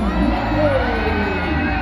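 An audience at a dolphin show at Ancol cheers and shouts in a steady, close crowd roar with no distinct break.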